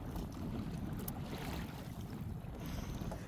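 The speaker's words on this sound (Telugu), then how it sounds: "గాలి ఎక్కువ ఉండటం వల్ల అలలు కూడా ఎక్కువగా వస్తున్నాయి" Strong wind buffets a small fishing boat at sea while waves slap against it, a loud continuous roar of wind noise and water with no voices.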